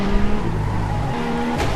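Race car from the video game TrackRacing braking: steady engine drone with squealing tires, close and continuous for under two seconds with no talk.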